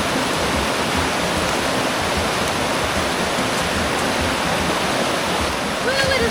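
A swift-flowing river in Patagonia, in Argentina's Nahuel Huapi National Park, rushes with a loud, steady, unbroken roar of churning water from start to finish.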